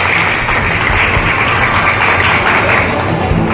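Loud, steady applause from a gathered crowd greeting dignitaries at the opening of a pure-veg hotel, a dense continuous clapping wash with a low hum beneath and no clear voices.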